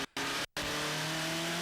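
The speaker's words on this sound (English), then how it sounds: "15 cars starting the race." A pack of TVR Tuscan Challenge race cars roars away at a 2003 race start, a loud sustained wall of engine noise after two brief cut-outs, no talk heard.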